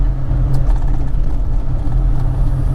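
Low, steady engine drone from a Daihatsu Mira pickup with a manual gearbox, idling along at low revs; a continuous close-up rumble with no voices over it.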